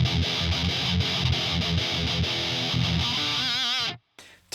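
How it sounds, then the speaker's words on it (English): An electric guitar plays chunky, crunchy riffs through a Marshall-style DONNER distortion pedal, loud and saturated with rhythmic palm-muted chugs, ending on a wavering sustained chord that cuts off sharply. "Listen to this Marshall style again."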